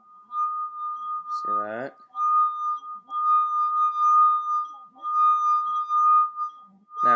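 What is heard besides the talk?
singing glass from a wet finger rubbing the glass rim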